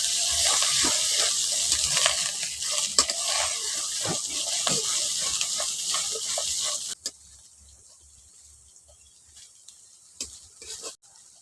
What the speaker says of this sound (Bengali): পেঁয়াজের মধ্যে এখন দিয়ে দিচ্ছি আদা রসুন বাটা দিয়ে ভালো করে মশলাটাকে একটু কষিয়ে নিচ্ছি